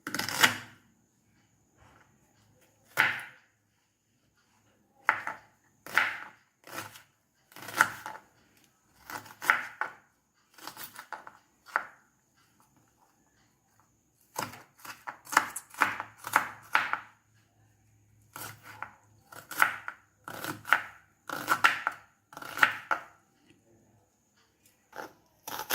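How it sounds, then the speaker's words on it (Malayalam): A knife chops a large onion finely on a board for a parippu vada recipe: sharp close taps come in quick bursts, separated by short pauses, with no talking. "ഇതിലേക്ക് അത്യാവശ്യം വലിപ്പമുള്ള ഒരു ഉള്ളി എടുത്തിട്ടുണ്ട്. ഇത് വളരെ ചെറുതായിട്ട് കട്ട് ചെയ്യണം."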